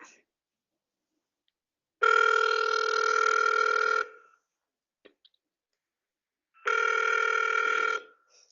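Phone ringback tone on an outgoing cellphone call: two long steady buzzing rings about two seconds each, separated by a long silent pause, loud and isolated.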